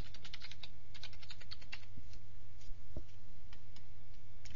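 Username and password being typed on a computer keyboard: a quick run of crisp key taps, then sparser single clicks with a louder thump near the end, close and alone over faint room hum.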